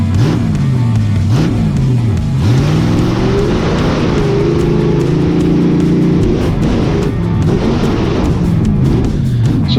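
A monster truck engine revs hard and loud in second gear during a show stunt, its deep roar rising and falling in repeated surges, with thuds from landings and bursts of power throughout.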